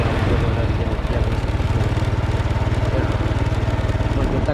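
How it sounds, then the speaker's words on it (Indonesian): A motorcycle rides through town in daytime on Jalan Tarutung in Pematang Siantar, its engine putting out a steady, close, rapid rhythmic putter with road noise and someone talking over it. "kita kan naik motor siang hari ya kan"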